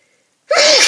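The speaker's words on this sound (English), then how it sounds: "I feel a sneeze coming on." A single loud, close human sneeze bursting abruptly after near silence, sharp and explosive with a breathy tail.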